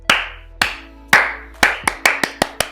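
A single person claps hands slowly and loudly, close by, with about nine separate sharp claps that start spaced apart and then come faster toward the end.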